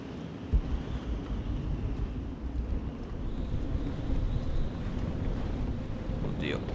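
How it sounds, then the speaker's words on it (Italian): Wind in Shadow of the Tomb Raider's Howling Caves, a steady low roar and rush of air that holds near constant throughout, with faint higher whistles drifting above. "C'è vento."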